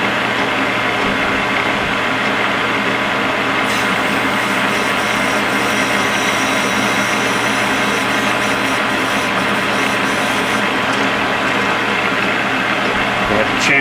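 A Dremel rotary tool spins at high speed while chamfering a part of a Marvel Schebler carburetor, a loud continuous whine lasting throughout with a slight rise in pitch partway through.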